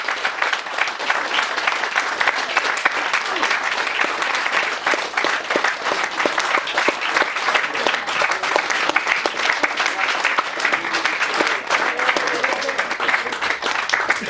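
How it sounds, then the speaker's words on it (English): Sustained audience applause at a hypnotist stage show, dense steady clapping from a crowd that continues evenly throughout at a fairly loud level. "Give them a big round of applause, please, everybody."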